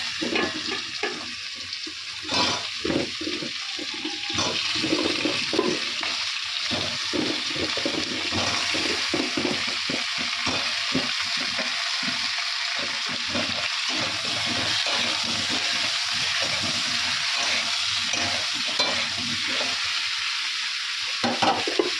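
Vegetable curry with potatoes and spices cooking in a pan, bottle gourd and spinach to follow, with a continuous close sizzle and bubbling broken by frequent stirring scrapes and knocks, no voices.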